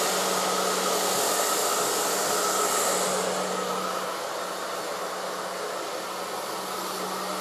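ETI Turbodryer Professional hair dryer running on its low heat, low speed setting: a steady, close, airy whoosh with a faint motor whine underneath, unbroken throughout and easing slightly in level partway through.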